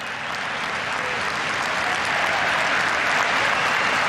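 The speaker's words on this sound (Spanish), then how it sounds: "El aplauso de la gran mayoría del Estadio San Carlos de Apoquindo" Applause from a large stadium crowd at Estadio San Carlos de Apoquindo, a dense, steady roar of clapping that fills the whole stretch and swells slightly toward the end.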